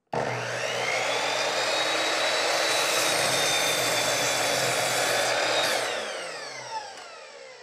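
A 1800W, 5300rpm power saw cuts through clamped 2x4 lumber: a loud, steady motor whine with rough cutting noise through the board, then the blade spins down and fades near the end.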